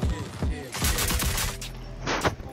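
Rapid gunfire bursts in the online shooter Rogue Company, several loud close volleys with sharp cracks, mixed with excited players talking over game chat.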